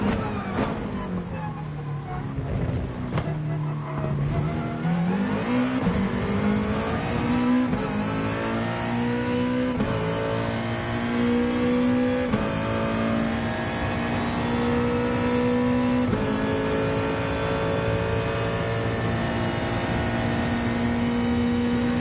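A race car engine in Gran Turismo Sport at Monza revs and climbs through long gears, with loud, steady rising tones and brief dips at each shift, holding high revs throughout.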